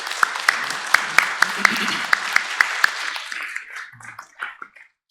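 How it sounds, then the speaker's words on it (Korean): A church congregation claps for the women's mission society during a Sunday service, with sharp individual claps punctuating a dense, steady wash of applause that fades out near the end. "큰 박수로 다시 한번 축복하겠습니다"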